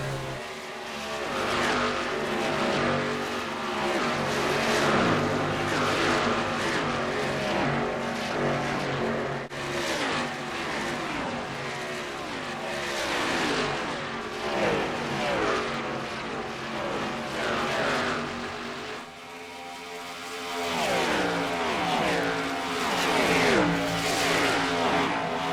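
Stock car racing in the NASCAR Racing 2003 simulator, 2008 Car of Tomorrow carset: a dense pack of V8 race engines roars continuously, pitch rising and falling through shifts and passes, loud and unbroken throughout with no talking.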